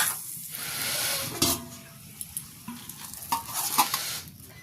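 Cauliflower paratha frying in oil on a pan, with a soft steady sizzle broken by scraping and clinks as it is turned and lifted, near and fairly quiet, no talk.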